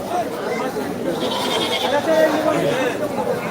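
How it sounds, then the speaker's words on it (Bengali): A goat bleats amid a busy crowd of chattering voices at a goat market in Mymensingh, Bangladesh, the animal's calls mixed in with the steady murmur of the market. "একটা সুন্দর ছাগল"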